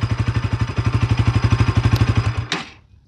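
A Bajaj Dominar 200 single-cylinder motorcycle engine thumps in a fast, even pulse up close, then cuts off abruptly with a brief clatter as it dies away.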